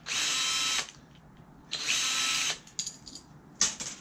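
Bursts of a handheld screwdriver, likely powered, whirring while removing screws from scrap dome security cameras, two sustained runs of about a second each followed by shorter clicks and ratcheting, close and clear with no talk.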